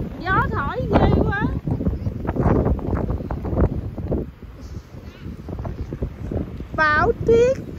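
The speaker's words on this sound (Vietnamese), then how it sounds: "Gió rồi, cho gió thổi ghê quá." Strong wind gusts roar and buffet the microphone during a heavy spring snowstorm, loud and rough beneath someone talking throughout.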